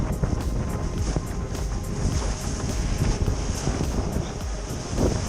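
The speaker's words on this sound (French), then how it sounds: "Je sens que le vent reprend un petit peu là quand même" Strong wind buffets the microphone in a constant roar while windsurfing, with rushing water beneath it and no talking.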